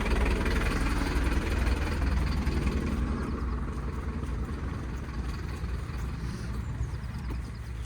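A MAN library bus engine idles steadily and loudly up close, a continuous low diesel rumble with no voices heard.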